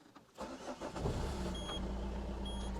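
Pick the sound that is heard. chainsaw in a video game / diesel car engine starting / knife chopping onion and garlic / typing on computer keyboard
diesel car engine starting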